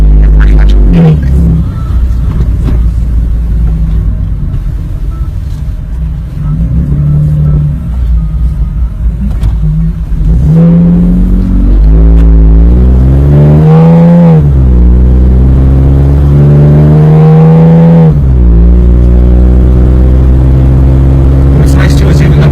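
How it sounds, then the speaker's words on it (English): A Jeep engine drives off-road under moderate throttle, a loud, steady drone near at hand with audible rises in revs and pitch during the second half, while a voice talks over it early on. "even though we're being moderate on the throttle, if I wanted to step on it, it has plenty of power to get up and go at any time"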